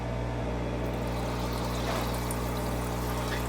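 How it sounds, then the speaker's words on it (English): A dual hose aerator pumps air into the water of a homemade minnow bait tank, giving a steady, loud bubbling and rushing hum that runs unbroken from start to finish with no voices. "I have that on both sides because it's a dual hose aerator"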